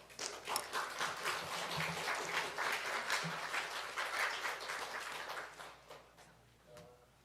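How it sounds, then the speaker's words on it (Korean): A church congregation applauds to welcome a pastor to the pulpit, a dense sustained clapping that swells, then thins and fades out near the end, with no talk over it. "큰 박수로 환영하도록 하겠습니다"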